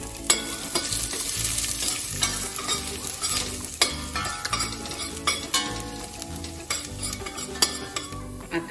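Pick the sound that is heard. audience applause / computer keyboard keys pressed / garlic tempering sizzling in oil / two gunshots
garlic tempering sizzling in oil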